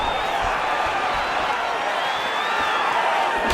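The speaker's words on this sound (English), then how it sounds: "The crowd's going crazy because they appreciate high-level mixed martial arts" Crowd cheering and roaring in a UFC mixed martial arts video game bout, a steady wash of arena noise with a commentator talking over it throughout.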